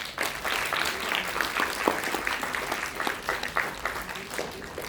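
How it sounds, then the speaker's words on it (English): Audience clapping after a group discussion session at a summer training programme in Kolkata, a dense steady round of applause lasting throughout, moderately loud with scattered sharper claps. "Let's give them a big clap."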